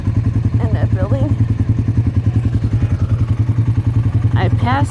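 An ATV engine chugs in a steady, rhythmic low throb while riding woodland trails, with a voice talking over it.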